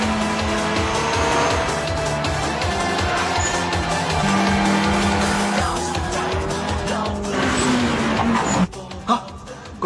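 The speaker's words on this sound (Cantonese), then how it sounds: "嗰啲聲係86嘅 Turbo" Toyota AE86 with a turbo racing in an Initial D anime mountain battle: a continuous loud engine roar with shifting revs, tire squeal and skidding through the corners, ending with a few sharp bursts.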